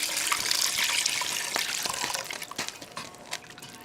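Beef broth is poured into a pot for venison stew, a steady splashing stream that tapers into intermittent trickles and drips, close and moderately loud.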